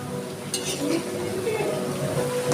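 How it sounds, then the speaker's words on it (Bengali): Palm fruit fritters (taler bora) deep-frying in oil, giving a continuous bubbling sizzle with a couple of faint clinks. "আমি এইভাবে সব বড়াগুলো ভেজে নিচ্ছি।"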